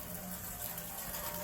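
Water runs steadily from a hose rinsing a 1968 C30 truck during soap pad cleaning, a faint, continuous splashing wash with no talking.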